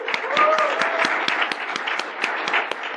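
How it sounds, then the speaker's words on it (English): A small conference audience gives a short round of applause, dense overlapping claps at steady loudness throughout, with some voices underneath. "You're going to have a small round of applause for Cooper."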